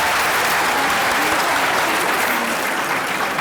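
Audience applause at a televised Urdu poetry competition (Bait Bazi), a dense, steady roar of many hands clapping close by and loud throughout.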